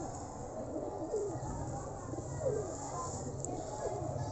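A large blue pigeon coos softly a few times against a steady low background hum, with faint rustling and no clear speech.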